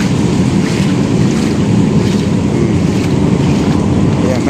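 Rushing floodwater along the Pasig River during a typhoon, a steady, loud churning roar with broad wind-like noise, continuous and unbroken throughout, with no clear talk over it.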